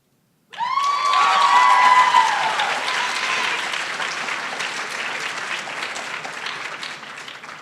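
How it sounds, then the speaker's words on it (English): Audience applause fills a school hall at a high school poetry recitation finals, starting abruptly and loud with a few cheers and whoops at first, then settling into steady clapping that slowly fades. "I think we need another round of applause."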